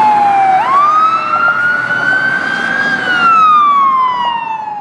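A fire truck running hot with lights and siren wails loudly and close, its long rising and falling tone sustained over the rumble of the engine.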